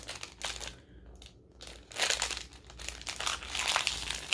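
A plastic toy mystery pack crinkles and crackles as it is torn open with teeth, with close, irregular bursts of crumpling plastic and a brief quiet gap, with no talking.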